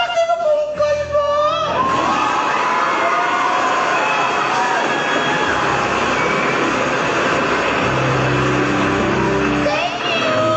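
A loud crowd at a live singing contest fills the space with sustained cheering and applause as a finalist is welcomed, a dense roar running without a break for about ten seconds.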